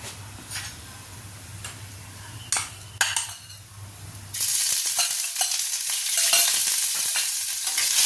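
Ginger sizzling in hot oil while being stirred, scattered clinks and scrapes of a utensil against the pan, then a brighter, louder frying hiss that fills the rest.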